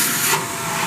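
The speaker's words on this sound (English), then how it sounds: "Now let's give a suction test, make sure we have good airflow, the suction is in the vacuum." Shark Navigator NV22L vacuum cleaner running during a suction test, a loud, steady whooshing hiss of airflow with a constant motor drone underneath.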